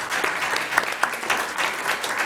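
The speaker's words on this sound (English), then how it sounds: "everybody give yourselves a round of applause" A room of people at an Alachua County Schools business meeting gives a short burst of lively applause, with close, uneven claps rising and falling in quick peaks.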